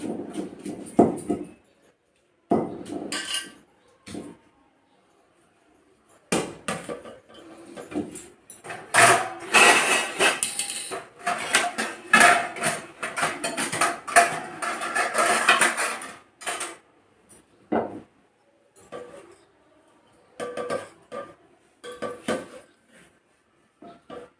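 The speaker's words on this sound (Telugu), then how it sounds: "ముందు పచ్చిమిరపకాయలు ఇవన్నీ వేసేసుకుందాం దంచుకుంటప్పుడు చిన్నగా అండి" Green chillies pounded in a stone mortar for gongura chutney, a run of close, dull knocks and grinding scrapes that come in bursts with brief pauses between them.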